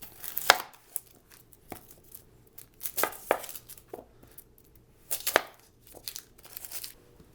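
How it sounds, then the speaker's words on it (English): Knife slicing through yellow onions on a cutting board, giving a series of crisp, close chopping strokes at an irregular pace with short pauses between cuts, and no talking. "So now for these onions, I'm actually going to be slicing them."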